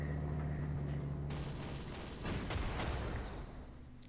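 Faint, muffled artillery fire from the Panzer Corps game thuds and crackles in a short cluster of rumbling booms.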